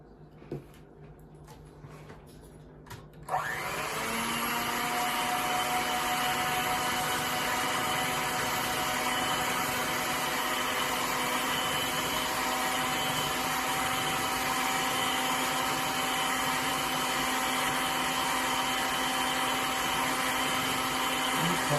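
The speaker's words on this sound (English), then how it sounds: "I know it's loud, but we're going to beat this until it gets some stiff peaks on it." An electric hand mixer runs steadily at high speed in a large bowl, whipping a creamy no-bake chocolate dessert mixture toward stiff peaks. After a quieter start it switches on abruptly at about three seconds and keeps up a loud, continuous whirring drone to the end.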